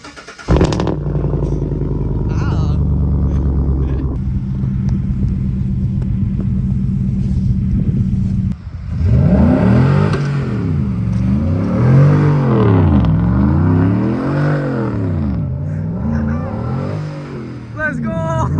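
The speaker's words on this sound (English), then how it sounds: "Cold start." A car engine cold-starts with a rough, steady idle rumble, then revs repeatedly in loud rising and falling sweeps, close and dominant, with voices in the background.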